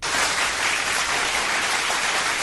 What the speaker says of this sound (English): the applause has gotten dimmer and weaker